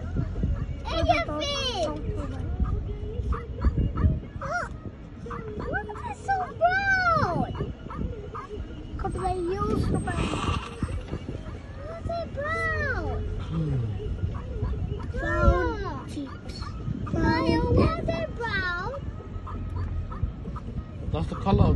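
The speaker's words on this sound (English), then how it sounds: "Elephant! No, it's a big dog," A big dog barks and yelps repeatedly in bursts over roughly twenty seconds, mixed with excited children's voices and chatter throughout.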